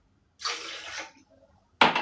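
Warm water from a kitchen tap pours into a bowl for katayef dough in two bursts, a half-second splashing stream, a pause, then a second louder pour starting.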